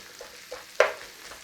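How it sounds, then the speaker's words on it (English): A short burst of hissing sizzle from onions and garlic hitting a hot pan, faint before and after, with a quieter crackle near the end. "Starting to sizzle in there."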